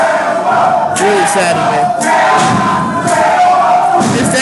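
A large pro wrestling crowd roars and cheers loudly and continuously in an arena, a sustained wall of shouting voices, while a commentator talks over the noise.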